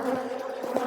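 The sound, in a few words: honey bees buzzing at an opened hive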